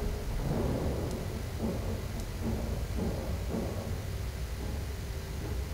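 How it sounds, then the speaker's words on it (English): A deadly lightning bolt spell cast in the Dungeon Siege 3 video game, a rumbling thunder-like crackle with a couple of sharp bright snaps over a steady low roar. "Deadly lightning bolt."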